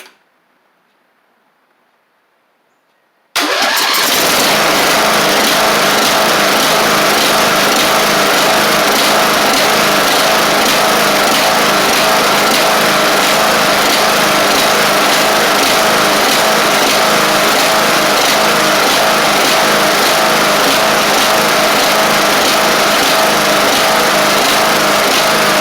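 A Briggs & Stratton Intek engine on a Craftsman LT1000 riding mower, fitted with an undersized-jet carburetor, starts after a few seconds of silence and then runs loud and steady at high idle, close up and alone.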